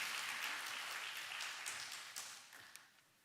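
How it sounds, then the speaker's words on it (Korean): Congregation at a late-night Friday prayer service claps together, a full, even burst of applause that gradually thins and fades over about three seconds. "박수해 주세요"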